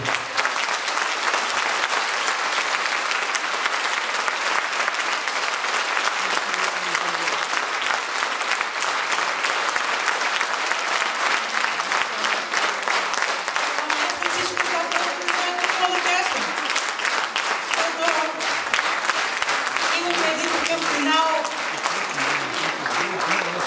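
An audience applauds after a concert, sustained dense clapping from a large crowd that stays steady and loud throughout, with some voices briefly heard under the applause.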